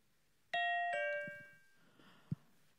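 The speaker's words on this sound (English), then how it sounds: "Oh, there's a doorbell." A doorbell rings two clear chime tones, ding then dong, ringing out and fading in a quiet room, followed by a faint soft knock.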